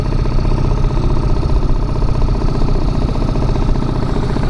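A small HDX 2.6 outboard boat motor runs steadily at cruising speed on the water, a continuous close, loud droning hum with a rapid mechanical pulse and no pauses.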